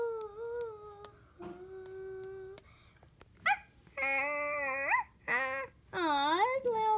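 A small dog whimpers and whines at a Halloween party, giving several rising, wavering high cries close by in the second half, after steady music-like tones and over faint background noise.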